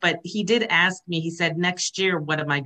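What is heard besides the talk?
No distinct noise like a dog, phone or traffic.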